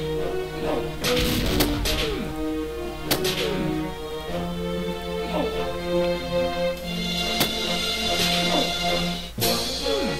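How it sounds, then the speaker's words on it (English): Gunfire in the video game Battle Gear Underground, sharp scattered shots and cracking impacts over steady game music, some shots close and loud, others lighter. "For now, we are shooting people."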